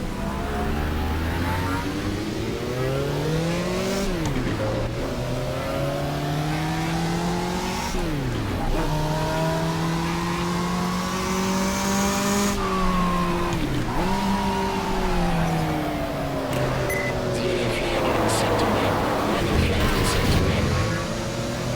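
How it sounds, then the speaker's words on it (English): A turbocharged V6 race car engine in a racing video game revs up and down continuously through gear shifts at Fuji Speedway, steady and loud, with faint tire noise near the end. "of the engine, a V6 turbocharged"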